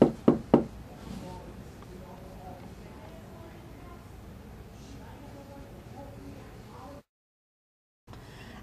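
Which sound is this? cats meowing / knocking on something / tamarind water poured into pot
knocking on something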